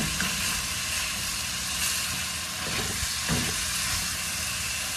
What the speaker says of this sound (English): And when I'm browning, I do like to have my burner on pretty high, so I can actually brown it and not just cook it.